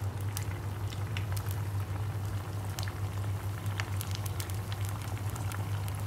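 Pempek kapal selam, an egg-filled fish cake, fries in hot oil with a steady, dense bubbling sizzle and scattered sharp crackles and pops, close and continuous with no talk.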